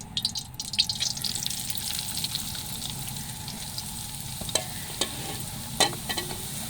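Wheat flour roasts in hot ghee with a continuous close sizzle and crackle, while a spoon keeps stirring and scraping, adding soft clicks and scrapes.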